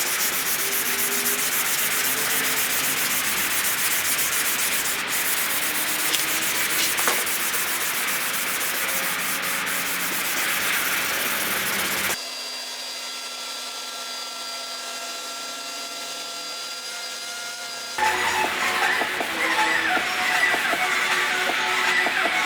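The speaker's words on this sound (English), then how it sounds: "So I'm going to go ahead and start sanding this a little bit, rough up the surface" Rough sanding on the epoxy repair area of a C5 Corvette bumper, a loud, close, continuous abrasive rasp that stops for several seconds midway, leaving a quiet hum, then resumes.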